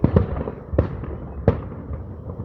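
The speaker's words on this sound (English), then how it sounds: "It's where they do a lot of fireworks at the end." A fireworks grand finale crackles with a dense rumble of bursts and several sharp loud bangs at irregular intervals. The display sounds fairly close.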